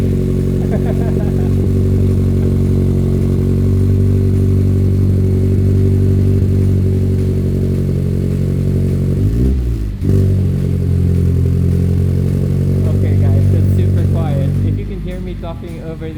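A Mazda Miata cup race car sits idling with a continuous deep, even exhaust burble close to the microphone, a brief dip near the middle, and people talking over it toward the end.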